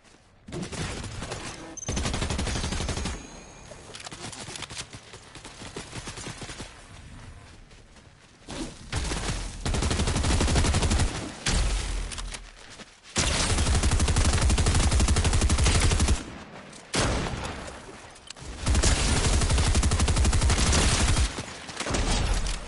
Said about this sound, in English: He was firing at us.